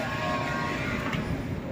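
Steady rumble of a metro train running, heard from inside the carriage, a continuous loud drone with no breaks.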